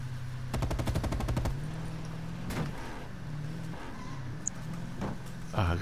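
A loud, rapid machine-gun burst fires in a video game, a tight row of shots lasting about a second, followed by scattered thuds and mechanical knocks while people talk.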